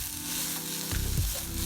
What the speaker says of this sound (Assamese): এই গাজৰখিনি ল' ফ্লেমত ভাজি কৰিম ধুনীয়াকৈ